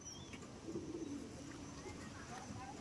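Madras pigeons cooing in a loft or yard, low soft coos repeating over steady background noise with someone talking nearby.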